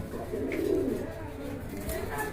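Black Barhuma fancy pigeons give a soft, low coo close by, brief and fairly faint against a background of room noise and murmuring voices.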